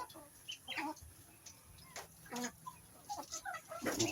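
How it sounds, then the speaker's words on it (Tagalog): Chickens cluck in short scattered bursts, fairly close, with quiet pauses between calls. "Ang alaga nating pato at manok."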